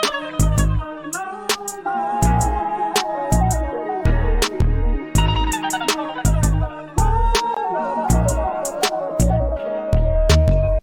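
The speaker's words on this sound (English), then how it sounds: "And the final hi-hat pattern sounds something like this." A programmed hi-hat pattern ticks steadily through a soul-sample hip-hop beat with heavy kick drums and looped melodic sample, every hit crisp and upfront with no talking.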